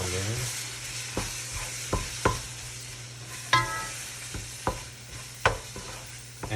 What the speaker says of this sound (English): and I'm gonna stir them